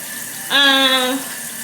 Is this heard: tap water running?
yes